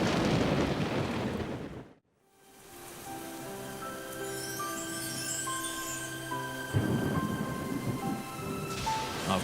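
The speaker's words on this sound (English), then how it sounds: "the animals of the high country now find themselves lashed by storm and heavy rain" Heavy rain roars steadily, with rumbling thunder-like swells, briefly cutting out for a moment, while sustained musical tones play softly underneath.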